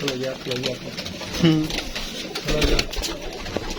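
Pigeons coo in low, throaty bursts at a rooftop pigeon loft in Karachi while a person talks over them nearby.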